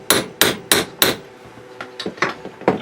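A hammer drives a chisel to cut metal out of a V-notched carriage stop part for a Grizzly G4003G lathe. Four loud, evenly spaced metallic strikes come first, then a run of lighter, quicker taps, all close and without talk.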